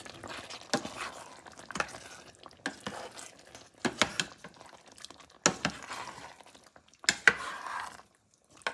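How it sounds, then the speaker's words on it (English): Chicken and dumplings with added carrots being mixed in a pot, giving irregular scraping and clacking spoon strokes in uneven bursts, moderately close and fairly quiet, with no talking. "Let's just mix this all together."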